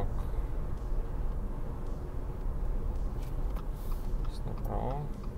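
A 2022 Subaru Forester driving along a road, its steady low engine and tyre rumble continuous and close throughout, with a brief higher tonal sweep near the end.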